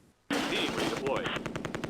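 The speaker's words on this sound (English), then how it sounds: "It is under fire from 2 rifle squads." Rifle and machine-gun fire crackles through a battle at Nijmegen Bridge in the Close Combat: A Bridge Too Far wartime strategy game. A loud, rapid burst of shots starts abruptly and then settles into an irregular stutter, with a voice faintly underneath.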